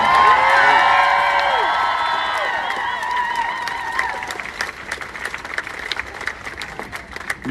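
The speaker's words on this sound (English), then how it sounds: "I think that we need to give her a round of applause again." Crowd at an anti-gun-violence protest rally breaks into cheering, whoops and shouts that fade into scattered clapping and sharp individual claps, loud and close at first, then thinning out.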